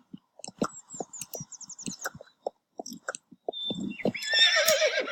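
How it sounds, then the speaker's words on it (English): A horse in a video game neighs and snorts among light clip-clop and chewing-like clicks, ending with a loud, shrill whinny close up. "Guardian Rainbow, we need a strong horse like you"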